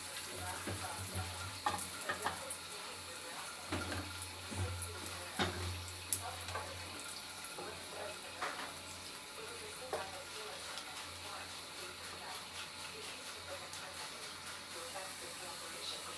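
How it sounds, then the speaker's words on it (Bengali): White and black raisins frying in a pan, a steady soft sizzle and hiss throughout with occasional stirring scrapes and clatters, a voice talking intermittently over it. "সাদা কিশমিশটা আর কালো কিশমিশটা দিয়ে দিচ্ছি। এখন দুটোটা মিলে একসাথে আমি ভেজে নেব।"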